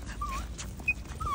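A dog whimpers and yips in short, thin whines, with a second whine near the end over a low outdoor rumble.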